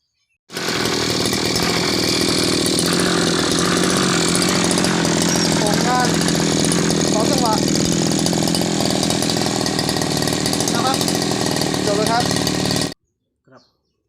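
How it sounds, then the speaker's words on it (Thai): A small two-stroke Robin brush cutter engine, just repaired, starts abruptly and runs loud and steady at high speed for about twelve seconds, then cuts off. "สำหรับ การซ่อมเครื่องตัดหญ้าโรบิน สีหนึ่งก็ เสร็จเรียบร้อยครับ น้ำมันไม่ไหลออก สตาร์ทติดเรียบร้อย"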